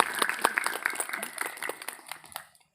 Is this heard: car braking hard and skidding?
no